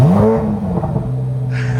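A Chevrolet Corvette C8 Z06 engine fires on a cold start, a rising whir settling into a loud, close, deep droning rumble that holds steady for a couple of seconds.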